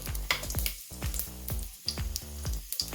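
Cinnamon, cloves, peppercorns, green cardamom, shahjeera and a bay leaf fry in hot oil in a pan for a chicken rassa, crackling and sizzling with repeated pops and short dips close by.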